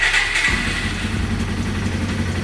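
A Yamaha XT225 motorcycle engine, freshly rebuilt and on a recently charged battery, cranks briefly and catches, then settles into a steady, loud, close single-cylinder idle that fills the short stretch.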